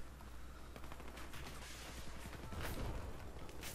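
Gunfire from an AWP-style sniper rifle in the video game Battlefield 4 sounds as faint, distant shots and rattling bursts layered over a low, steady game background, with no voices.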